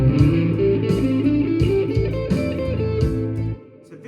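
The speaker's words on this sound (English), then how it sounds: "if you just play the chord pentatonic scale, it sounds a bit like this" An electric guitar runs through a pentatonic scale, a quick series of plucked notes ringing one after another at a moderate, even pace, clear and close with no talking.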